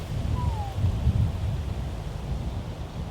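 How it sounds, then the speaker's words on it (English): Steady wind buffeting outdoors, a low rumbling roar with a faint high whistle briefly sliding down early on. "Overcast, windy, and cold."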